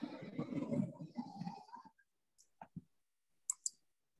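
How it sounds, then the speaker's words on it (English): Soft keyboard typing while notes are taken during an online meeting, a few scattered clicks following a trailing stretch of muffled talk. "typing the notes here."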